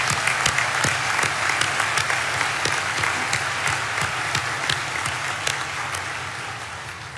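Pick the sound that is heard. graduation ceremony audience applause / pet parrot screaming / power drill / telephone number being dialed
graduation ceremony audience applause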